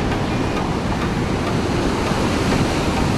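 Stormy sea waves crash onto the shore at Alanya, Turkey, on a winter day, a continuous loud surf roar mixed with wind buffeting the microphone, with no voices.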